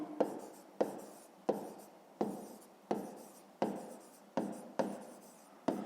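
A pen scratches on paper in a steady rhythm of about nine sharp strokes, each starting with a crisp attack and fading, close and quiet with no speech.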